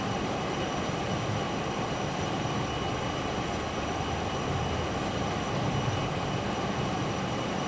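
A Challenger 650 business jet in the X-Plane 12 flight simulator drones steadily in flight, a loud continuous broadband engine and air roar with an even hiss and no voices.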